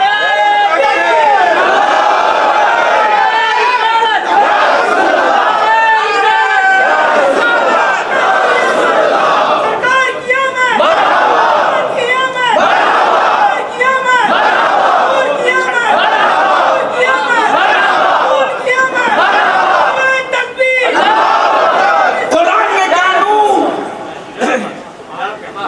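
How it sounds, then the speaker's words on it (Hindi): A large crowd at a religious gathering shouts the slogan Nara-e-Takbir in loud, repeated, rhythmic collective bursts, one call after another, close and dense for the whole stretch. "इस पर तो बीच से नारा लगना चाहिए था।"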